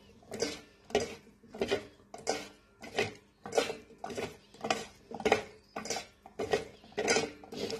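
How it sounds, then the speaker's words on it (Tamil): Cauliflower mixed by hand with marinade in a bowl, heard as a regular series of wet, squelching strokes, roughly one every half second, close and fairly quiet with no talk. "கையை வச்சு நல்லா மிக்ஸ் பண்ணிக்கோங்க."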